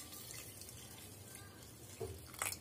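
Water poured into a lassi mixture flavoured with cardamom powder, a soft, faint trickle of running liquid that grows briefly louder near the end, with no talking.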